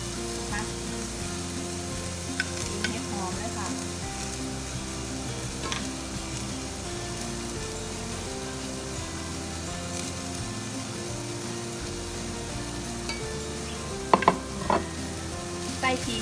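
Tofu stir-fried with ginger and shiitake mushrooms sizzles steadily in a pan at low level, with occasional light scrapes and clinks of the utensil against the pan.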